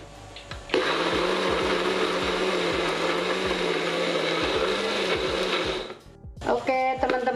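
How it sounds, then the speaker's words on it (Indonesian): A blender grinds spicy spice paste for stir-fried tofu with basil, a loud whirring burst lasting about five seconds before winding down, followed by brief clattering handling sounds. "Kita blend dulu."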